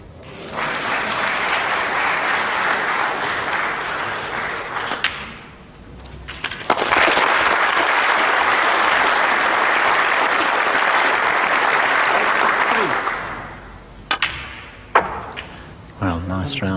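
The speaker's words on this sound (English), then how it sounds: "nice round of applause there for Stephen" Audience applause for snooker player Stephen Hendry at the 1991 UK Championship semi-final against Jimmy White: a sustained burst of dense clapping fades, then returns longer and louder before dying away into a few sharp knocks.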